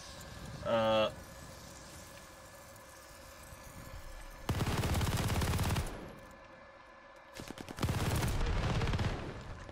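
Machine gun fire in the multiplayer video game Call of Duty Vanguard, two long loud sustained bursts separated by a quieter gap, with someone talking before and between them.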